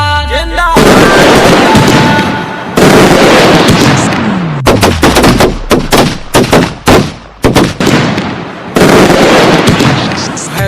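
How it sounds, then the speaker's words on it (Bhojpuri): Rapid bursts of firecracker blasts crackle and pop loudly, first as a dense continuous roar, then as irregular sharp bangs with brief gaps. "नागिन फटाका जिंदाबाद"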